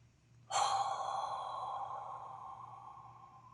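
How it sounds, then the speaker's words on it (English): A single long, audible exhale, part of a guided deep-breathing exercise of breathing in through the nose and out through the mouth, starts suddenly after a quiet moment and slowly trails off, close and fairly soft. "a couple of deep breaths in through the nose and out through the mouth"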